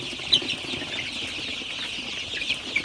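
Soft, steady high-pitched cheeping of many Sonali super hybrid chicks at night, with an occasional louder peep, continuous and fairly close.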